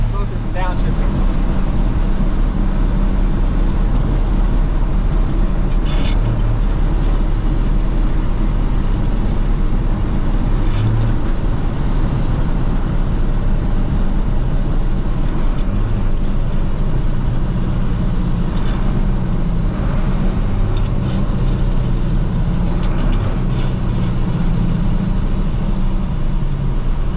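An International Loadstar twin-stick truck downshifts as it rolls to a stop. A heavy, continuous engine rumble is heard from the cab, with shifting clunks and changes in engine pitch, and faint talk underneath.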